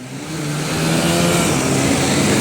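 A car drives along a road, its engine droning steadily and getting a little louder as it gains speed, close and continuous with no talking.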